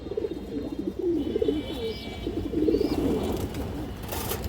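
Domestic pigeons coo in a loft, several low throaty rolling calls overlapping close by, with faint chirps above and no talking.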